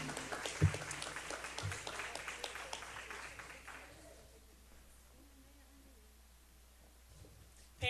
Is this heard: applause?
yes